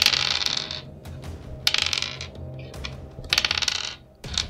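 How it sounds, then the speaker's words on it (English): Dice roll and rattle during a tabletop role-playing game: several bursts of clattering on a hard surface, each lasting about half a second to a second with pauses between, close and fairly loud, with no talking. "There were lots of dice rolling ASMR for whoever's listening."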